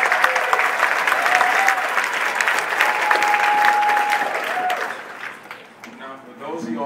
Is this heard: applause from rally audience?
yes